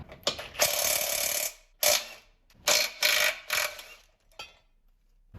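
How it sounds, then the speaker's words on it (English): A ratchet wrench works 18 mm nuts off the sway bar of a Corvette C5, loud close bursts of fast clicking repeated several times with short pauses between. "next we'll remove the sway bar. It is 18 millimeter nuts."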